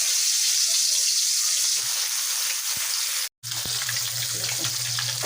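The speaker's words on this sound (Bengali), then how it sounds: "তেলটা গরম হয়ে গেছে, আমি এখন মাছগুলি লাল করে ভেজে নেব।" Shing fish fry in hot oil in a kadai, a loud steady sizzling hiss that cuts out for an instant, then returns with a low hum beneath it.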